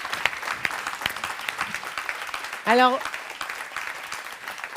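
Applause from a conference audience rolls on steadily at moderate level, with a brief spoken word and a short vocal sound rising above it.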